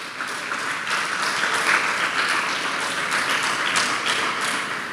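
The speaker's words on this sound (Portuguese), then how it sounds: "Vamos dar uma salva de palmas para eles." A church congregation applauds a couple entering, a steady wash of many hands clapping together at moderate volume, sustained without pause.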